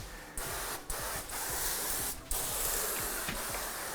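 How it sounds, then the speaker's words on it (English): Repeated bursts of steady hissing spray from an Ace hand pump sprayer misting water in a fan over a countertop, briefly interrupted by short pauses, close and fairly loud, with no voices. "We like the Ace sprayers because they always spray a good fan mist."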